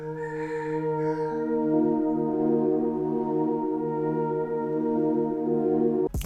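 Dark choir sample in which the melody is doubled by a second instrument playing the same line, giving steady, layered sustained tones that change pitch after about a second and hold, moderately quiet with no speech.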